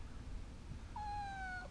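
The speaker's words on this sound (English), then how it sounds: "He's the fluffiest cat in the world, also the most schizophrenic." Very fluffy house cat giving a single faint drawn-out meow with a falling pitch, heard alone in a quiet room near the end.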